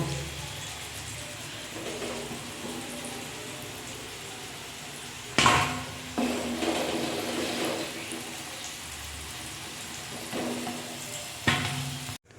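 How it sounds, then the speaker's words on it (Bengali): Potatoes frying in oil in a pan give a soft, even sizzle, with a few louder bursts of crackling and stirring scrapes scattered through. "আলু ভাজাটা হয়ে গেছে, একটু লাল লাল করেই কিন্তু ভেজে নিয়েছি"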